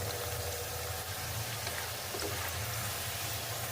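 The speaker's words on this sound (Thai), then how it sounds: "ทอดไปให้เขาเหลือง" Sliced potatoes frying in hot oil, giving a steady, dense crackling sizzle that holds evenly throughout at moderate volume with no talking.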